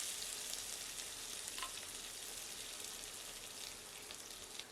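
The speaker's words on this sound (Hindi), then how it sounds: "तत्पश्चात प्याज सम्मिलित करते हैं।" Onion frying in hot oil with a piece of cinnamon and cumin seeds, for a ridge gourd curry: a steady, close, broadband sizzle that holds throughout, with a faint stir or crackle midway and no talking.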